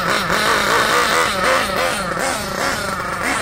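Nitro engine of an old- and new-model Kyosho NEO buggy RC car revving continuously while it warms up after servicing, a loud buzzing drone rising and falling in pitch with no pauses.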